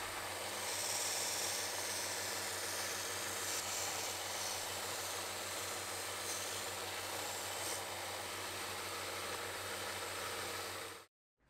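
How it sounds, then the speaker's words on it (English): A belt sander rounds off the marked, radiused ends of small wooden pieces for a mic boom arm, giving a steady, loud, continuous whir with grinding hiss throughout that cuts off abruptly near the end. "I went over to the belt sander to round them off"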